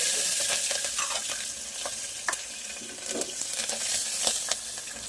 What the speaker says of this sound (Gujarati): ઉમેરી રાખેલા મરચાં ઉમેરી દઈએ।